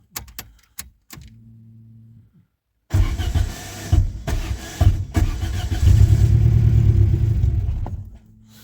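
A Peugeot 306 car engine running low on petrol sputters with a few short bursts, goes quiet, then catches and revs unevenly in surging pulses before dying away, close and loud.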